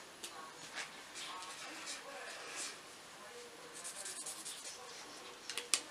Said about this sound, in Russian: Я рисую только фломастерами и ручки.